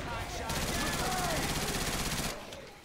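Sustained automatic gunfire from several players hammers away at the Tank in Left 4 Dead 2 on Expert, a dense rapid rattle lasting about two seconds with voices faintly underneath.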